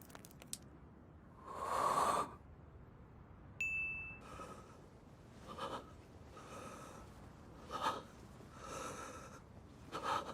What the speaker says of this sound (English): This long, silent, slow, heavy breathing might be one of the best sorrow-building moments I've witnessed in anime.